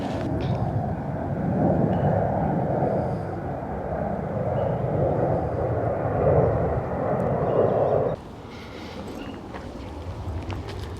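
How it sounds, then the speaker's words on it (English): A steady airplane engine roar from a plane taking off from Heathrow rumbles overhead for several seconds, then drops away abruptly into quieter outdoor background. "another plane taking off from Heathrow"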